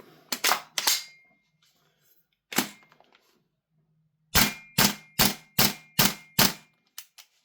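Double Eagle Noveske N4 SD gas blowback airsoft rifle dry firing: a quick burst of sharp clacking shots, a lone shot, then a steady string of about six loud, evenly spaced cycling clacks.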